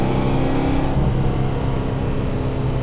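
A Fox Body Ford Mustang with a T5 transmission accelerates hard on the road, a loud steady engine and drivetrain roar that holds strong throughout without a break.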